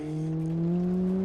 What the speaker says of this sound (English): It still revs up, which is a sign we have power